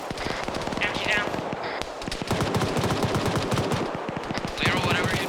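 Rapid bursts of automatic gunfire crack repeatedly in a multiplayer shooter game, dense and loud, with short single shots mixed in and voices chatting faintly over the top.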